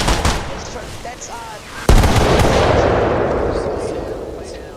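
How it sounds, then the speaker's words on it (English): In Arma Reforger, a loud mortar round bursts very close by with a sudden sharp crack, followed by a long rolling rumble that slowly fades, after faint distant thuds and scattered background fire. "Mortars are too close."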